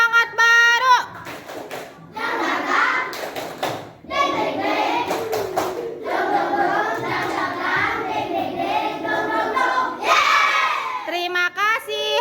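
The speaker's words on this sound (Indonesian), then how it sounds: "tepuk semangat baru" Schoolchildren in a classroom perform the 'tepuk semangat baru' clapping chant, with a burst of chanting and shouting voices over rhythmic hand claps lasting most of the clip, loud and close, with a brief pause midway.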